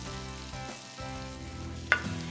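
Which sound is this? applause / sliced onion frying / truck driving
sliced onion frying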